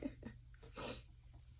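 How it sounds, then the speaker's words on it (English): One quiet sneeze indoors: a soft intake of breath followed by a brief, breathy burst, with near silence before and after. "Am I gonna edit out my sneeze?"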